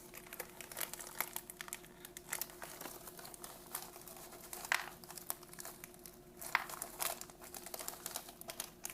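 An MRE chili mac food pouch being torn open and fixed gives off crinkling plastic and soft tearing sounds in short irregular bursts, close and quiet with no talking.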